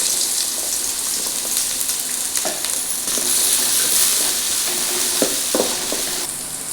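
Three sliced onions frying in hot coconut oil for biryani give a steady, close sizzle throughout, with a few soft stirring knocks against the pan and no talking.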